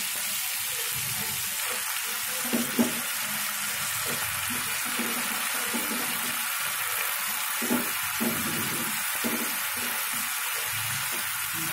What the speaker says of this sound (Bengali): ভালোভাবে আলু ভেজে নিয়ে পুঁই শাকটা দিয়ে দেবো।